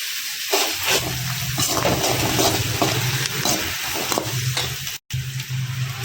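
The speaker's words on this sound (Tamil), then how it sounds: "இப்போது கொஞ்சம் அப்படியே வதக்கி விட்டுக்கோங்க" Tomato paste sautéing in a pan for a drumstick chicken curry gives a steady, close sizzle with scraping stirs throughout, broken by a brief silent gap near the end.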